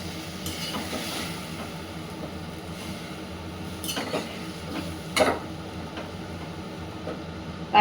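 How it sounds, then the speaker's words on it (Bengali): Panch phoron spices sizzling in hot oil while fish is fried, a steady quiet hiss under occasional scrapes and clinks of stirring. "এখন একটু পাঁচফোড়ন দিয়ে এটাকে সাঁতলিয়ে নিলাম আমি"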